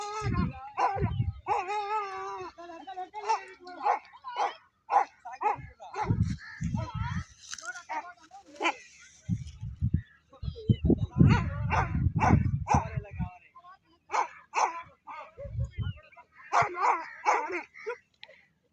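Hunting dogs chasing a jackal near a sugarcane field give a long run of excited, irregular barks and yips, some close and loud, with brief pauses between bursts and occasional voices.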